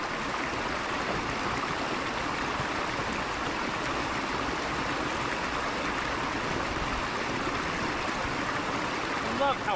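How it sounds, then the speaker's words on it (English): Creek water flows in a steady, full rushing wash close by during gold prospecting, continuous and even throughout with no talk. "I love how relaxing sitting in a creek is."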